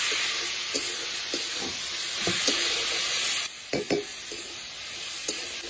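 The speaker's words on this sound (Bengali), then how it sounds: "এবার পাতাকপিটা ঢেলে দিচ্ছি এবার পাতাকপিকে একদম ভাজা ভাজা করে নেব" Cabbage hisses and sizzles in a hot pan, a constant crackle broken by occasional scraping clinks of a spatula stirring.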